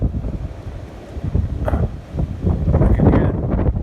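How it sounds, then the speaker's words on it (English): Strong gusts blow over a hilltop on a very windy day after overnight rain, buffeting the microphone with a steady, low, rumbling roar that swells louder toward the end. "Oh, that wind."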